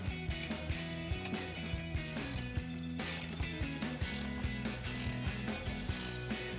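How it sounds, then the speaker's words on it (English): A 19mm wrench ratchets in a steady run of crisp clicks, tightening a bolt to pop a ball joint free on a 2014-2018 Silverado or Sierra 1500 front suspension, with no talk. "So I've got a 19mm wrench to tighten down this bolt."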